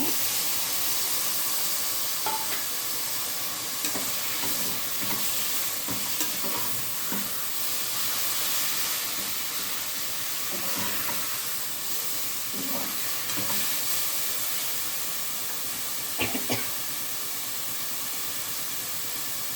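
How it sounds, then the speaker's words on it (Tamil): Green chilli, ginger and garlic sizzle steadily in a pan while being sautéed for tomato pongal, with an even hiss throughout and occasional soft stirring scrapes, close and fairly loud. "இந்த பச்சை மிளகாய் இஞ்சி பூண்டு இதெல்லாம் போட்டு வதக்கும் போது"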